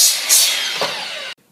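A power tool trims wooden beam supports on a solid outdoor picnic tabletop, a loud, steady buzzing cut lasting over a second with a brief surge near the start, ending abruptly in silence.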